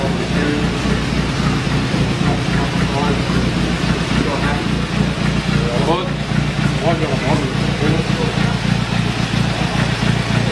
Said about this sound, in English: 1927 Morris Cowley. There you are, she's running.